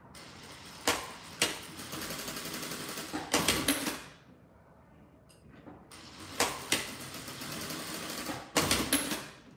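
A sewing machine runs in bursts while stitching along the sides of a fabric squeeze pouch. Two long, steady runs of rapid needle clatter are split by a quiet pause, with sharp ticks at the starts and stops.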